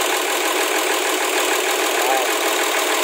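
A steady marine diesel engine drone, a 6M70, runs continuously and evenly after water got into it, a constant mechanical rumble with a faint whine, close and loud with no talking.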